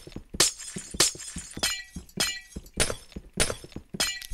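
Glass blocks shatter one after another in a Minecraft escape map, with about eight sharp, bright breaking crashes at a steady, quick pace and short quiet gaps between them.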